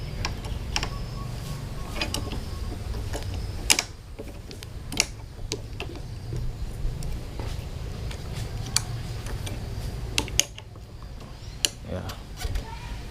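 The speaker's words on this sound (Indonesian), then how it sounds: "kita putar bautnya" A bolt turned with a tool on a motorcycle throttle handgrip, producing a string of close, sharp ratcheting ticks and clicks at uneven intervals over a steady low background.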